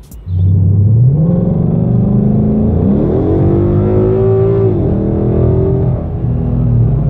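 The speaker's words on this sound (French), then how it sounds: "on est officiellement parti avec le premier petit départ accéléré. Donc là on est dans une Mustang de 2015 avec un échappement Milltech" A 2015 Ford Mustang with a Milltech exhaust pulls away from a standstill, its deep, loud exhaust rumble climbing through the revs, shifting, then settling into a steady drone.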